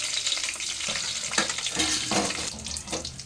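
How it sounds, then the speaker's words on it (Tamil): Black pepper and coriander seeds roast in a little oil with a crackling, popping sizzle, broken by bursts of scraping as they are stirred around the pan. "கொஞ்சோண்டு எண்ணெய் சேர்த்து அதுக்கு கூட இந்த மிளகை இதில் போட்டு இந்த மல்லியையும் இதுக்கு கூட சேர்த்து வறுக்கணும்"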